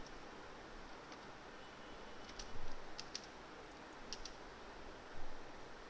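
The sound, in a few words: typing on a computer keyboard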